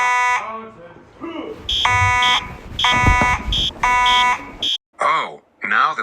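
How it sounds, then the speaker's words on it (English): A fire alarm at a Chuck E. Cheese's restaurant sounds in loud repeated electronic tone bursts, interrupted by brief gaps, with voices talking over and between the blasts. "I pulled down the fire alarm switch."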